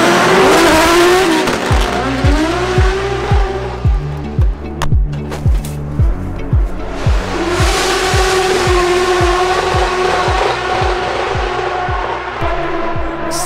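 Drift cars race past at a Drift Masters event, engines revving hard with rapid rhythmic bouncing and long tire squeals, loud and close, echoing off the surrounding forest without any talk.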